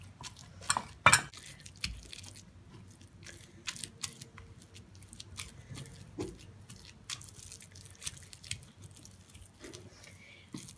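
A spoon scrapes and clinks in a small bowl while aloe vera and rice are stirred into a paste, soft intermittent taps and stirring sounds at close range with quiet gaps.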